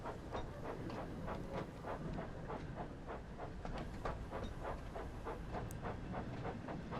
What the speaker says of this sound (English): Increase the throttle once again to move Thomas forward.